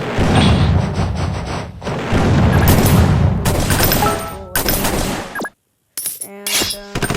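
Gunfire from a combat video game, dense loud bursts of shots and booms for several seconds, then a brief silence followed by a few sharper shots and clanking effects.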